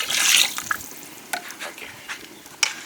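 Liquid pouring into a pot for Dindigul-style biryani, starting as a short splashy rush and then thinning to a few soft drips and trickles, close by and fairly quiet.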